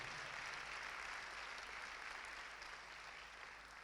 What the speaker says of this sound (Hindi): आइए जोरदार तालियां बजाइए खुदा के जलाल के लिए।